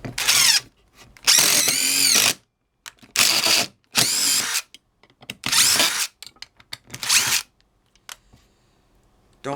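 A Dewalt cordless drill running on a 2Ah battery drives a screw, its motor whirring loudly in five bursts, each separated by a short pause, and some of the bursts rise in pitch as the motor speeds up.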